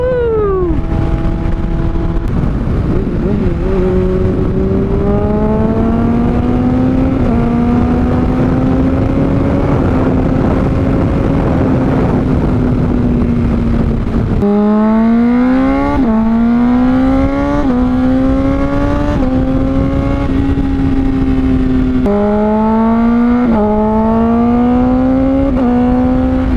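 Honda CBR600RR sport bike fitted with a Toce exhaust and Translogic quickshifter, loud and close, revving up through the gears in repeated rising pulls, each upshift cut sharp and quick with no voice over it.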